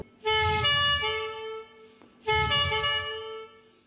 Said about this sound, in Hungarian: A hegybíró kürtje ma is fontos jelzés a hagyományőrzőknek.